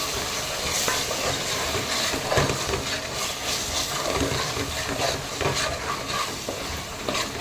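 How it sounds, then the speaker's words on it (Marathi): Mutton coated in mutton masala roasting and being stirred in a pan, with steady close sizzling and frying hiss and repeated scraping stir strokes throughout. "आता हे सगळं मस्तपैकी भाजून घेते"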